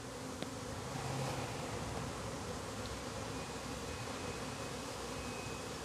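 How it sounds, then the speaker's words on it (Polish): Bees buzz softly and continuously in a garden, a faint steady insect drone with no talking. "Jak właśnie pszczoły brzęczą."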